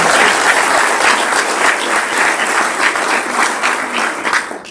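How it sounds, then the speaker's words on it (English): A community coffee audience gives John a round of applause, dense and loud clapping from many hands that carries throughout and tapers slightly toward the end. "give John a round of applause"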